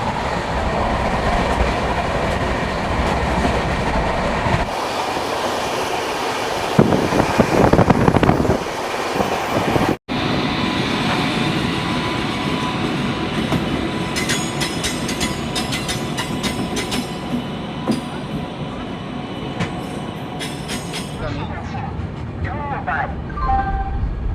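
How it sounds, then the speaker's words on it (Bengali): Steady, loud rumble of the Sampark Kranti Express running at about 130 km/h past Dhanbad Junction, with rhythmic rattling and clatter throughout, a brief dropout midway, and faint talking underneath. "ধানবাদ জংশন ক্রস করার পর আমাদের ট্রেন কিন্তু আবার সেই একশো তিরিশের গতি ধরে নিয়েছে"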